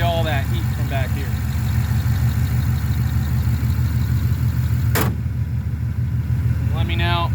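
A cold car engine idles steadily while warming up, a continuous low rumble running throughout, with a voice briefly talking over it near the start and end and a sharp click or thump midway.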